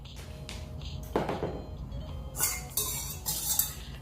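Metal attachments for a KitchenAid Pro 600 6-quart stand mixer, including a dough hook, clink and clatter as they are handled, with a few sharp knocks and scrapes up close followed by brighter jangling bursts.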